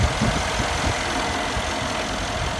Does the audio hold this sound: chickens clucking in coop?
no